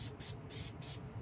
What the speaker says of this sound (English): You're going to spray both pieces, wait until it dries just a little bit,